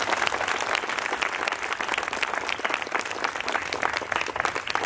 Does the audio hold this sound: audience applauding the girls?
yes